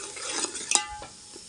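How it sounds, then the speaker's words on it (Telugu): Fish pieces tossed by hand with masala and chili powder, a brief close wet squish and clatter with a couple of small knocks, then quiet. "చూడండి మసాలా మొత్తం అయితే వేసుకున్న తర్వాత ఇలాగైతే కలుపుకోవాలి బాగా."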